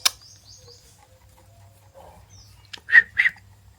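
Two short barks from a male village dog, close and fairly loud near the end, following a quieter stretch with faint background sounds.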